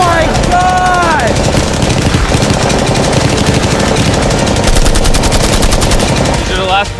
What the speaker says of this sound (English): One bullet to penetrate, and it's going in his Lambo.